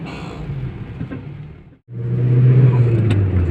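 A 1991 Mitsubishi Galant Royal with a five-speed manual gearbox on a test drive: a steady engine drone from inside the car dips briefly during a gear change, then returns louder and fuller as it pulls again.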